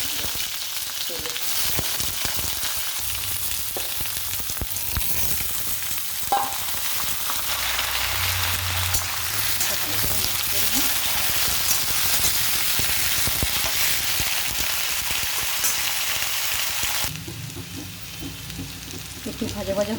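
Chopped spiny gourd, onion and potato fry in hot oil in a wok, giving a loud, dense, continuous sizzle close up with occasional stirring scrapes. The sizzle drops to a quieter hiss near the end, and no one speaks.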